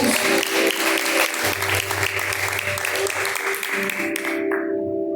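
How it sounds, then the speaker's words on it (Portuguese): A church congregation claps hands together in praise, a dense, steady wash of applause that runs loud and continuous through most of the span, with sustained musical tones beneath it, before cutting off near the end. "Exalte a Deus com palmas, bem alegre para Jesus."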